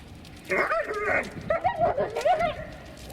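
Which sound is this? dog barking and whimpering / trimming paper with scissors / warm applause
dog barking and whimpering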